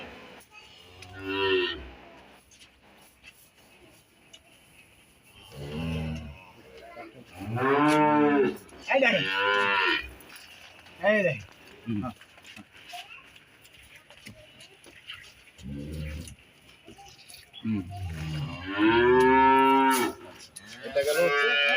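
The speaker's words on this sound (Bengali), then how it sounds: "এই বাছুরের একটু চিল্লাচ্ছে।" A Holstein Friesian calf on a dairy farm moos repeatedly in loud, drawn-out calls spaced by short pauses, close by, while someone talks briefly between the calls.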